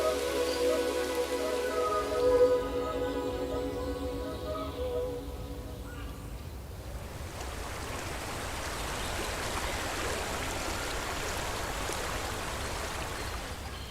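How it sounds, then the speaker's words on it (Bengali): Steady outdoor rain falls as a dense, even hiss, starting under tonal sounds at first and then continuing alone at moderate level through the rest. "অবশেষে বৃষ্টি থামে।"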